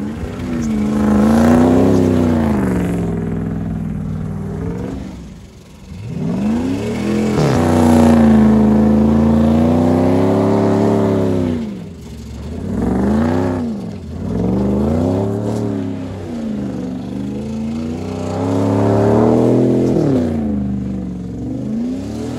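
A Dodge Dakota truck revs loud and close while spinning donuts, its engine swelling and dipping in long wavering surges that rise to high pitch and ease off again, with no talk over it.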